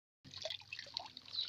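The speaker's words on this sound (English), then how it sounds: "You leave the water to drain." Water draining and dripping from freshly harvested azolla, a soft, irregular trickle of drips and small splashes close by, continuing steadily after a brief silent start.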